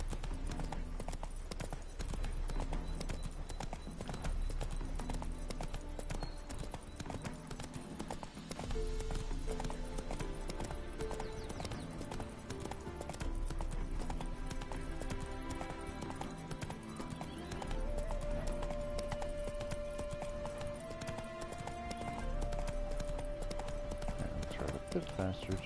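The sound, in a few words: horse Roach hooves clip-clopping in video game Witcher 3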